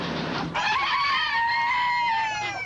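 A flock of pet chickens in a backyard, squawking and clucking loudly and continuously on top of one another, a raucous, shrill chorus close by.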